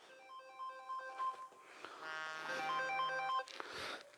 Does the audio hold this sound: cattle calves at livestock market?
no